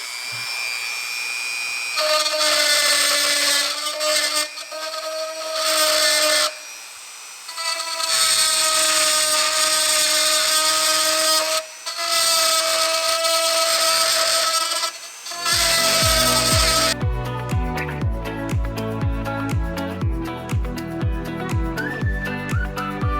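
A Dremel rotary tool with a cutting bit grinds into a Cerwin Vega D9 speaker cabinet in several loud, high whining bursts separated by short pauses, before tonal music takes over near the end.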